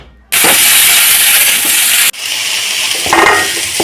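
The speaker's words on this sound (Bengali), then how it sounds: "এই আলু ভাজার তেলে এঁচোড়টাও ভেজে নেব" Jackfruit pieces coated with turmeric hit hot potato-frying oil in a wok, bursting into a loud, close, continuous sizzle that dips briefly and then carries on crackling.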